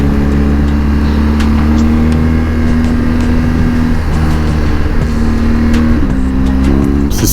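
A 2022 BMW R1250 GS Triple Black motorcycle's boxer engine pulling hard through the gears, a loud, close drone whose pitch climbs steadily, drops at each shift, and climbs again.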